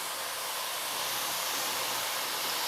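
Hot oil sizzles steadily around breaded pork tenderloin as it fries, a dense, even hiss that holds without a break from start to finish.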